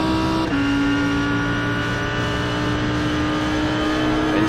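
An Audi R8 GT3 engine in a racing video game at the Nürburgring holds a steady, loud drone at full power, with a brief dip and shift in pitch near the start before settling into a sustained high whine.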